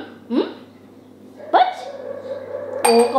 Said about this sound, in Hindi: इसको कब से हिचकी आ रही है